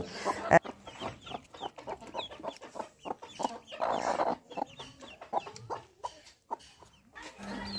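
A hen keeps up repeated, close clucking beside hatched native duck chicks, soft and irregular in rhythm, with sharper calls mixed in throughout.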